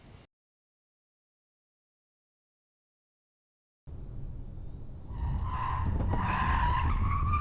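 Tires of a Volvo C40 Recharge electric car, on 235/45 front and 255/40 R20 rear rubber, skid through a moose-test dodge manoeuvre: after near silence, a rising squeal and scrub that grows louder and holds to the end.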